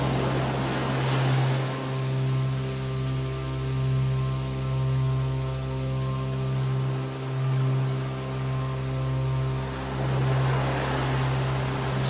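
Continuous ocean surf washing in low, rolling swells, with a steady hum running underneath and no voices.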